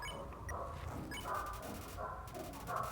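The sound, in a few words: dog howling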